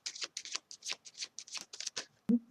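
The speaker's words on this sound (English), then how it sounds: "Let's take out some more cards." Tarot cards being shuffled and drawn, a quick run of crisp riffling flutters and snaps close up, ending in a soft thump.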